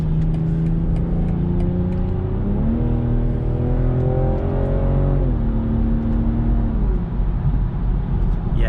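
A 2021 BMW M440i in sport mode with exhaust valves open revs after a paddle-shift downshift, the engine note climbing and then settling at a steady drone heard from inside the cabin, with no talking.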